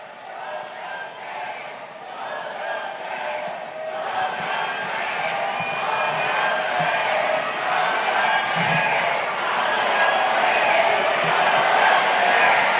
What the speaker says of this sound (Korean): 여러분의 힘찬 박수로 청합니다